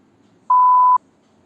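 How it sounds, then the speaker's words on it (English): A single clean electronic beep signalling the start of a recording, a steady mid-pitched tone lasting about half a second against near silence. "after that you will hear a sound of beep"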